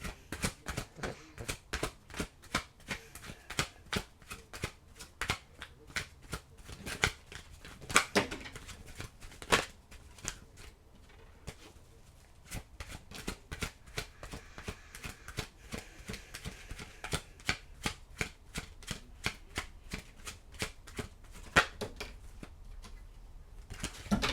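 Tarot cards being shuffled close up, a steady stream of sharp flicks and riffles that keeps going without a break, no voices.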